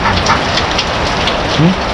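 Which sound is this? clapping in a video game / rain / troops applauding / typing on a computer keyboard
rain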